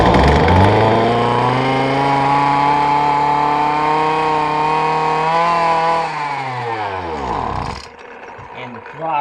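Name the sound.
small engine running with a faulty throttle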